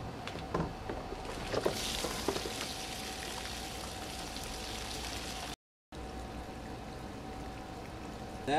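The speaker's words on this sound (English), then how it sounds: "So now we just gotta take the plug out, flip it back down, and drain out all this soapy water." Soapy water drains out of the plug hole of a plastic kayak in a steady, gurgling trickle that stays constant and moderately quiet, opening with a few knocks and then a brief dropout.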